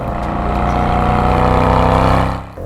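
A 2021 Mercedes-AMG GLE 63 S Coupe's V8 engine roars loud and close under hard acceleration. The deep note holds steady and rises, then drops away at the end.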